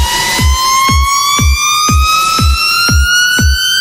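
A tuned synth riser with a noise layer, made in Logic Pro X: stacked tones climb slowly upward over a hissing noise bed while a deep kick-like thump pulses steadily about twice per second, loud and with no voices.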